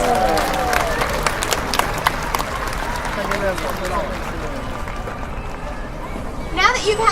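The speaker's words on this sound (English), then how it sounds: "Let's give Orchid a big round of applause." A crowd at a SeaWorld San Diego orca show applauds and cheers loudly throughout, with steady clapping and a background hubbub of voices, and a whistle-like cry near the end.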